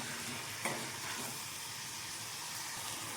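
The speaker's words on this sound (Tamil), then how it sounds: "வெண்டைக்காய் சேர்த்து இப்போ வெண்டைக்காய் சேர்த்து ஒரு 2 நிமிஷம் நல்லா வதங்கட்டும்." Okra cooking with tomatoes in a pan for curry gives a steady, soft frying hiss with faint stirring scrapes and one brief clink near the start, no voices.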